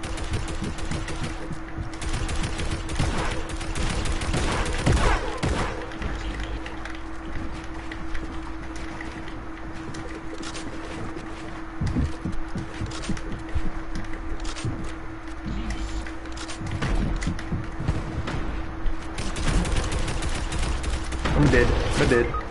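Automatic gunfire bursts from the Fortnite battle royale game, rapid crackling volleys repeating through the match over a steady game hum, with people talking intermittently across it.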